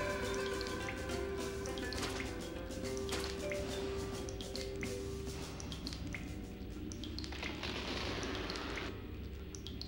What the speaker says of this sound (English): There's a leak in the sub.